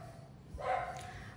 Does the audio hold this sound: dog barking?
yes